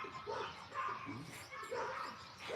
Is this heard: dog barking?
yes